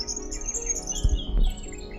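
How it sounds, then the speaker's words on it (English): Fairy wrens chirping on a lakeside bushland trail near Perth, a few quick high tweets over a quiet background, fairly close. "So these are called fairy wrens, and they actually start off grey and the females stay grey"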